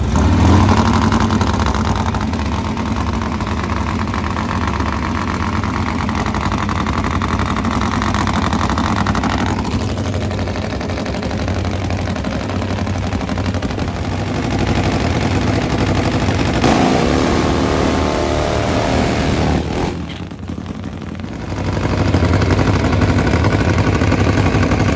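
Nitro Harley drag racing motorcycles making a strong pass at a drag strip, a loud sustained engine roar that fills the recording, with a brief dip near the end before the roar returns.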